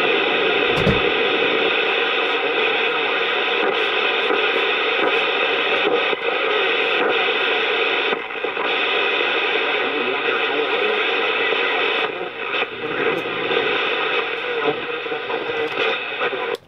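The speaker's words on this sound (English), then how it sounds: "let me hear that radio, dude" A Uniden radio plays loud, dense, hissy broadcast audio with static, sounding close and continuous, with a few brief dips and clicks along the way.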